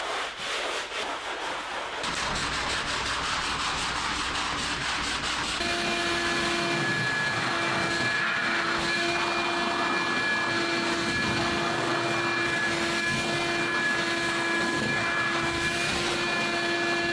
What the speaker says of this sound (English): we'll use a shop vac, wet dry shop vac, to suck up that water